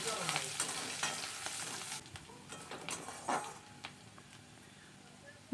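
Whole cumin seeds and chopped onion fry in hot oil with a continuous sizzle, broken by spatula scrapes and light taps against the pan as it is stirred.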